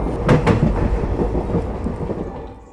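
Diesel train rolling through the Thar desert in Rajasthan on the Jaisalmer line, a steady low rumble with rhythmic clattering near the start, fairly loud and close, easing slightly toward the end with no voices.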